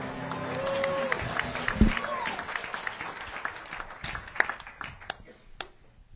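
An audience at a live comedy show bursts into applause and cheers for a comedian taking the stage, loud clapping that peaks early, then breaks into scattered claps and whoops as it dies down.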